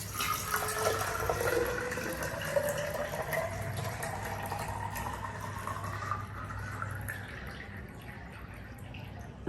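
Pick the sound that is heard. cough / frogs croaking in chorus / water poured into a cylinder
water poured into a cylinder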